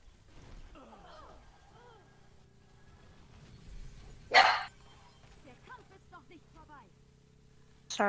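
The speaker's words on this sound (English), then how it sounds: "Sorry about my dog." A dog barks a few times in the background during game talk, with a loud sharp bark burst in the middle and another at the end, heard under a voice.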